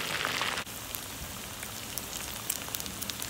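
Steady rain patters on a surface close by, a dense even hiss with scattered brighter drop hits. A brief dip comes early on, then the downpour continues unbroken to the end.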